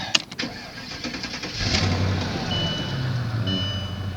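A Mercedes W215 CL500 V8 with 152,000 miles cranks briefly and catches, then settles into a steady, close, low idle rumble with no one talking.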